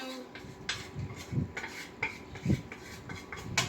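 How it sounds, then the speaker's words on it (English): Cooked ground beef being moved into a clean pan: a metal utensil scrapes and clinks against cookware in irregular, moderately quiet bursts, with no talking. "Already have my clean pan over here that I'm transferring it to."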